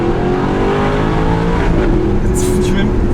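An Audi R8 V8 engine runs loud and close with a steady, throaty drone, while a voice talks over it.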